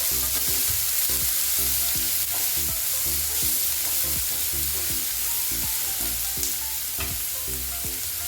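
Finely chopped onion sautés with ginger-garlic paste in a pan for chole masala: a constant loud sizzle broken by regular, rhythmic spatula strokes across the pan.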